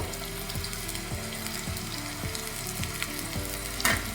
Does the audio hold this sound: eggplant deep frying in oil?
yes